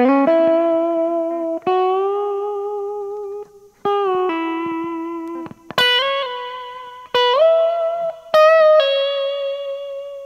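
A simple electric guitar solo in several sustained phrases, each note ringing with effects and slight distortion, with short pauses between phrases and no talking.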